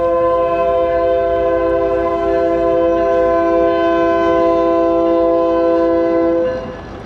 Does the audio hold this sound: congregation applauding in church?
no